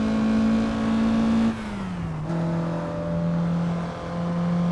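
A car engine revving steadily toward redline on a canyon road in the Assetto Corsa driving game, a sustained high whine that dips briefly during a gear shift and then climbs again, loud and close.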